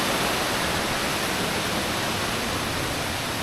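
River stream water rushing loudly and steadily up close as it is crossed on a hike, a dense unbroken roar of flowing water with no voices.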